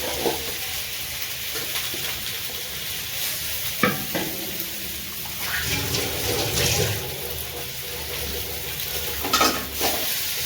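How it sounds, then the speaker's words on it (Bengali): Cumin, coriander and chilli powders with dried chillies stirred and fried in a wok, a continuous sizzle broken by repeated scraping and clanking strokes of the spoon, no speech. "একটু কড়াতে দিয়ে নাড়িয়ে চাড়িয়ে নেবো এটাকে"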